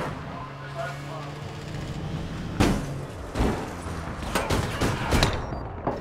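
Gunfire in APB Reloaded comes as several sharp bursts of shots with rapid fusillades, loud and close, over background game noise and voices talking.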